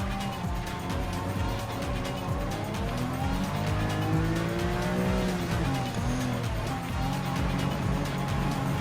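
Race cars in Gran Turismo 7 roll toward the start on the Nürburgring, their engines droning loudly and continuously, with pitch sweeping up and down as the pack accelerates and shifts, and faint tire squeal.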